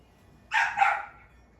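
A single dog bark, a short double-pulsed yap, close and fairly loud against quiet surroundings.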